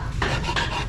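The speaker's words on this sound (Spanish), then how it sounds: "Estamos cortando y picando hígado" A knife works through raw liver on a board, giving short rasping, scraping cuts in quick succession, close and fairly loud with no talk.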